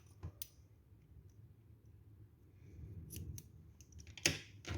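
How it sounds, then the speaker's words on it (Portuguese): Scissors snip through nautical cord yarn at the end of a half-moon crochet bag, giving a few sharp, close cuts scattered over a faint background hum, no speech. "vou cortar esse fio"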